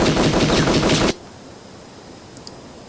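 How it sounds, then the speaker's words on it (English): Rapid automatic gunfire in the Return to Mysterious Island video game, a loud dense burst of shots lasting about a second that cuts off abruptly into quiet room tone. "The shot was too close for comfort."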